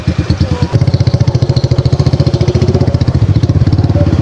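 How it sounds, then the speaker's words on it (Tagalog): A single motorcycle carrying two riders putters along a coastal road, its engine loud and close with a rapid, even chugging pulse that runs throughout without speech. "So nag-single na motor lang kami, dalawa."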